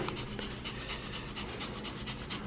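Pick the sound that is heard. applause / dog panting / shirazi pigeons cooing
dog panting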